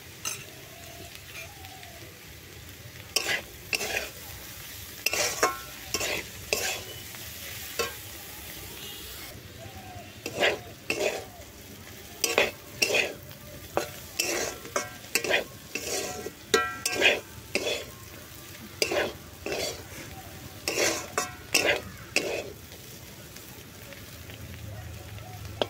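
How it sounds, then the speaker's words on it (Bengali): Food fries in a pan with a low continuous sizzle, while repeated scraping strokes of a spatula stir it in uneven bursts. A person talks intermittently throughout. "সব কিছু খুব ভালো করে ভাজা হয়ে গেছে"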